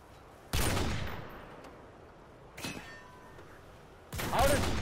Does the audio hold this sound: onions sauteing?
no